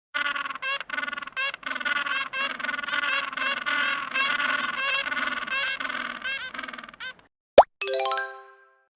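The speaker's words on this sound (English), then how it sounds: "penguin," A penguin brays in a series of rapid, harsh honking calls with short pauses between bursts, ending in a sharp plop and a bright ringing chime typical of a children's animal-sounds cartoon.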